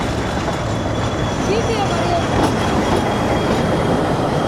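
A train in the hills near Ooty rumbles past with continuous rolling noise and faint squealing wheels, loud and close, with voices talking over it.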